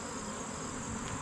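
Caucasian honeybees buzzing steadily at an open hive during an inspection, a dense continuous drone close to the microphone with no voices.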